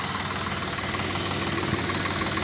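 Swaraj 735 FE tractor engine running steadily in a rain-soaked, waterlogged field, a continuous low idling rumble with a rough knocking pulse throughout, close and fairly loud with no talk.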